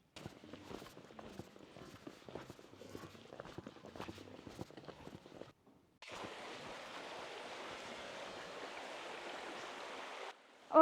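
A small but full river in Las Tinajas de Jacagua near Santiago de los Caballeros rushes in a steady wash, preceded by clattering footsteps on rocks and a brief pause.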